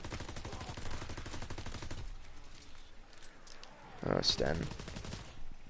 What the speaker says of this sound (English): Now packed, it shoots pretty dang fast and it's a pretty good weapon.